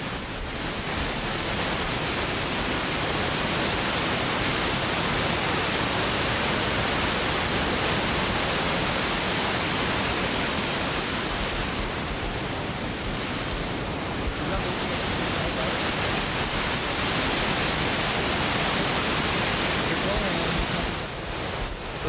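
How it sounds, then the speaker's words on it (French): Rushing water from a waterfall in Canada pours as a loud, steady broadband roar across the whole stretch, with no breaks or voices. "je pense qu'ils entendent pas grand chose sur la vidéo parce qu'avec le bruit de la flotte là"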